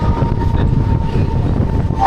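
A Mumbai local train rumbles loudly from inside the carriage as it pulls into a station, a steady heavy clatter with a faint tonal whine running through it.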